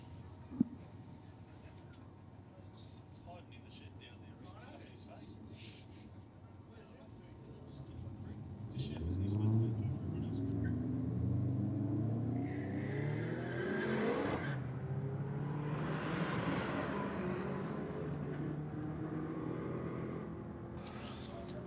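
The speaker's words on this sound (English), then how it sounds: "Another good run down there for Justin in the VL in the rocket lane, crossing 183" Drag race cars run down the strip at a roll drags event, among them a VL: a low idle rumble swells into a loud, sustained engine roar from about seven seconds, with commentators talking over it.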